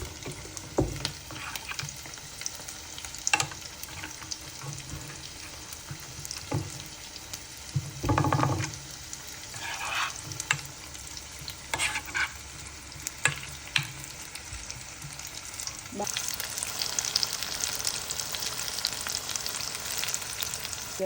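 Bhaji fritters made from batter fry in hot oil, a steady sizzle running throughout with occasional stirring clatters and a louder bubbling surge near the end.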